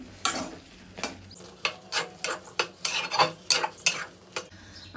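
Boiled mango being mashed in a pan for chutney, heard as a steady run of rhythmic rasping scrapes and thuds from a utensil, close and fairly loud, with no talk.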